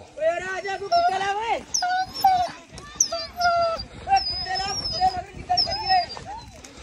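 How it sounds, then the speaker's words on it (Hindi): Dogs on a hunt in sugarcane fields whimpering, whining and yelping in high, wavering cries with occasional barks, fairly close and loud, mixed with people talking and shouting in the background. "उधर देखें बिल्लो और डायमंड जो है उन डॉग से पंगे लेने के लिए पहुंच गए"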